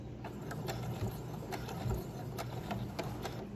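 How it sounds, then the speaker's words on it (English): A sewing machine stitches a fabric face mask in place, a steady, close mechanical whir with a fast, even clatter of the needle running without pause. "Yeah, see, it's just sewing in place."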